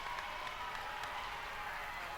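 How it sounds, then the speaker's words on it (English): A crowd at a college volleyball match between CWRU and Mount Union boos, a dense, steady wash of voices filling the gym without letting up. "Crowd's booing."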